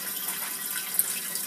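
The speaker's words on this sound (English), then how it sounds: "the outlet is just breaking the water surface, so it pumps out above the water" The outlet of an aquarium filter breaks the water surface and pumps water out above it, giving a steady close splashing and gurgling rush, like a running tap, alone and continuous.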